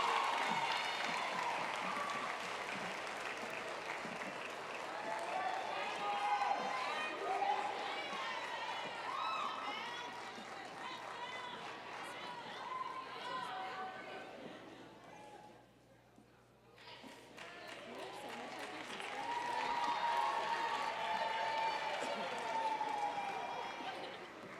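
Clapping from an athletics awards audience for equipment manager Patty Duncan, a long, steady round of applause that fades briefly midway before swelling again, with some voices mixed in.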